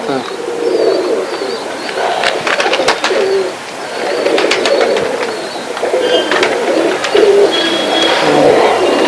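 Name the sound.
pigeon cooing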